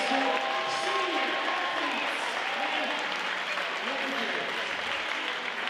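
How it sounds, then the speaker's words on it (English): Sustained crowd applause and cheering fill a high school basketball gym as senior athletes of West Fargo Sheyenne are recognized, steady and dense with an announcer's voice carrying over the noise. "please give a round of applause for your West Fargo Cheyenne High School senior"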